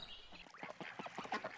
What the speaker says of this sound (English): The little duck wants to play.